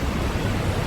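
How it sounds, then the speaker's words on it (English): The Rheinfall waterfall in Switzerland roars in a dense, steady wash of rushing water, loud and continuous through a brief moment without any voices. "These are the waterfalls."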